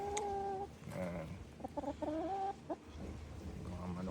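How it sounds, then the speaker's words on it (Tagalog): A backyard flock of hens, including naked necks, golden sex-links, Australorps and a Swedish black hen, clucks and croons in a run of drawn-out calls and short chattering notes, fairly close by. "Mga manok natin."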